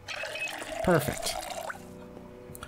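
In the video game Project Zomboid, a kettle is filled with water from a bathtub, making a short splashing pour that tails off into a trickle, with a voice speaking briefly.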